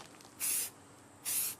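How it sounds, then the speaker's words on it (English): A spray can coating a .308 rifle, heard as two short bursts of hissing spray, each about a third of a second long and close by, separated by quiet. "I haven't spray painted a gun before."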